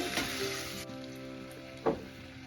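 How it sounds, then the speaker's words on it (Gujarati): Potatoes sizzling and frying in a pan for potato sabzi, a quiet steady crackle with a couple of brief stirring scrapes, heard close up without talk. "બટેટા મુકાઈ ગયા એટલે આપણે ફેરવી દેવાનું છે."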